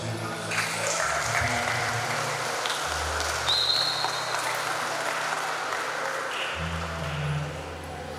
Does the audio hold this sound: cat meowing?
no